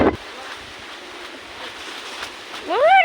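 Strong storm wind blows hard past the microphone near a house during a storm, a rough continuous rush with buffeting gusts, and a voice breaks in at the start and end.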